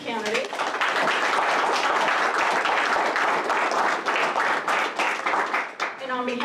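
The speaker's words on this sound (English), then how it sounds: "So let's give a round of applause for these two candidates." A forum audience applauds two district court judge candidates at a League of Women Voters event in Forks, Clallam County: dense, sustained clapping close and loud throughout, with a voice briefly audible at the start and the end.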